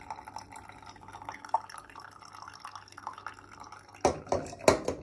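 Pour-over coffee drips through a paper filter in a home kitchen, making soft irregular drips, then a few sharper louder splashes close by near the end.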